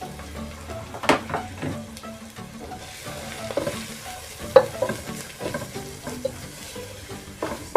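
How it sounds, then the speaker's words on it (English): Grated beetroot sizzles and fries in a pan while a utensil stirs it, soft continuous frying hiss broken by scraping strokes and occasional sharper clinks against the pan, close and fairly quiet. "Stirring well."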